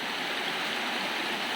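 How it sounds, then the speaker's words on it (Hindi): Water from a waterfall rushes and splashes down a forest stream in the Sitamata wildlife sanctuary, a constant, dense roar that fills the scene with no voices. "उस झरने का पानी यहाँ से नीचे से भी टक्कर दे रहा है"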